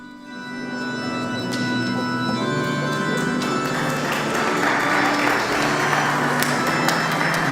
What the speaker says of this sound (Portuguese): Mais um caloroso aplauso de boas-vindas ao Santo Padre